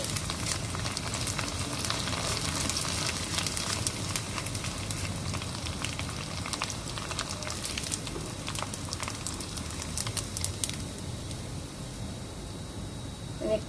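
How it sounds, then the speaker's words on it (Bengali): Flattened rice (chira) fries in oil in a pan, giving a steady, moderate sizzling hiss with occasional light stirring scrapes, no voices over it. "ভাজতে বেশি সময় লাগে না, একটু নেড়ে দিচ্ছি।"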